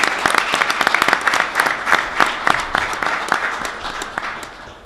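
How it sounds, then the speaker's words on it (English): A city council meeting audience claps for three new police officers, a dense, steady round of applause in a hall that stays loud throughout and tapers slightly near the end. "If we could have one more round of applause for our three new police officers."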